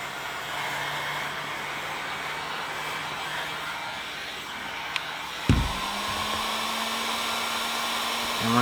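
A heat gun blows steadily on vinyl wrap being applied to a Ford Bronco center grab handle, a continuous airy whoosh that holds nearly unchanged for the whole stretch, with a brief click and a faint handling knock partway through.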